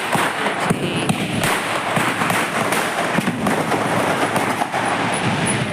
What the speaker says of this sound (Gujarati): અહીંયા બધા ફટાકડા ફોડે છે છોકરાઓ.